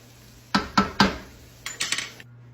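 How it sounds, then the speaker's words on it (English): A spoon knocks against a pot of soup beans cooking with hog jowl, three sharp clinks in a quick row, then a lighter cluster of scraping taps close by before it goes quiet. "So I'll give these one more stir"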